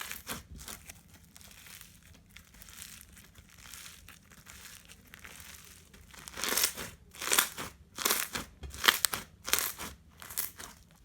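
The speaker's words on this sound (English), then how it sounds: "Your results should be a super crunchy, bubbly FLOAM slime with no fallout." Crunchy, bubbly floam slime, made with activator, is squished and mixed in a run of close, crisp crackling crunches, with quieter handling at first and then a louder sequence of rhythmic squeezes toward the end.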